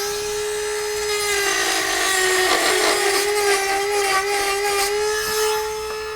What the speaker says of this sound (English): so just going to trim off the edge here to allow that to pass. Use a die grinder, a rotary tool,